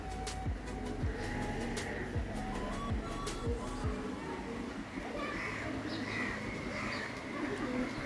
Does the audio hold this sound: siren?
no